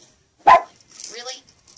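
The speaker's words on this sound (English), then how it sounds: "I have no idea what she's barking at" A dog gives one sharp, loud bark nearby, followed by softer yips and whining sounds.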